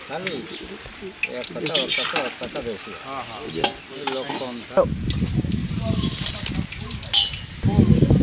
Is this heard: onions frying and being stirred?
yes